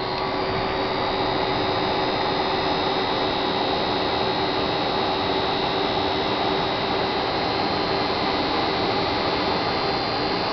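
A heat embossing tool blowing hot air, a loud, steady, unbroken whooshing roar with a faint underlying hum that stays constant from start to finish.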